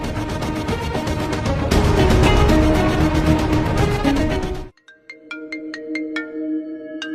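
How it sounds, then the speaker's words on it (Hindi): A phone ringtone plays loudly: a dense, busy musical melody that gives way to a sparse, chiming electronic pattern of repeating notes, with no speech over it. "ये मुझे क्यों फोन कर? फोन उठाओ बेटा।"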